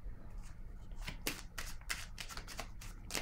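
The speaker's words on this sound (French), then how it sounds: "Je vais déposer une carte ici" A tarot card laid down on a table during a reading, heard as a run of close, crisp papery slaps and rustles with a brief pause between bursts.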